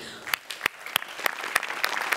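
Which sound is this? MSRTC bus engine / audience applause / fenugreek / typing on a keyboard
audience applause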